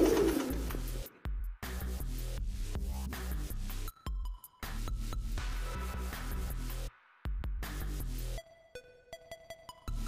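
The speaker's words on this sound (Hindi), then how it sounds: "किस कदर के नायाब देवबंदी कबूतर राशिद भाई के पास मौजूद हैं" Deobandi pigeons at a Muzaffarnagar pigeon market coo close by in soft, throaty bursts, broken by short gaps of near silence.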